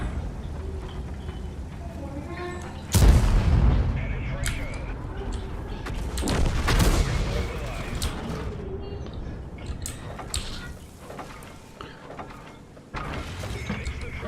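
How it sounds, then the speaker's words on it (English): Artillery shells boom and crash across a map in a tank video game, a few loud impacts standing out over a steady mechanical rumble. "that much artillery is on this map"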